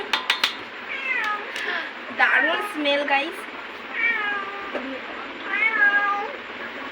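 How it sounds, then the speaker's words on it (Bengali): A pet cat meows for food while biryani is being opened nearby, giving four or five clear, drawn-out meows in close succession, loud and near, with a person briefly speaking over the start. "খাওয়ার জন্য ম্যাম ম্যাও হচ্ছে"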